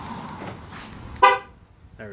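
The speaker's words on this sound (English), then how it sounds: "now we'll get 1 honk because everything's closed" A Ford F150 factory alarm horn gives one short, loud honk up close, preceded by a quiet voice and fading quickly into near silence.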